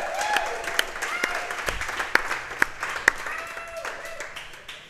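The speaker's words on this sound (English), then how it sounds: "please join me in a round of applause" Applause and clapping from a studio audience greets a high school football coach arriving on a coaches' show, with sharp individual claps standing out over a lighter crowd patter and some voices.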